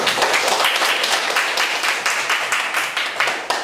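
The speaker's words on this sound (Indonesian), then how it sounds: "Tepuk tangan dulu" A classroom full of people claps loudly, a dense and steady wash of applause that continues throughout.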